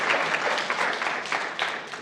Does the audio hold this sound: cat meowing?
no